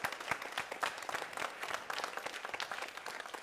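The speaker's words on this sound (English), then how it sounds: "let's have a huge round of applause for the lady here" An audience applauds after a theatre performance with steady, dense clapping heard at a distance, fairly faint and without any voices.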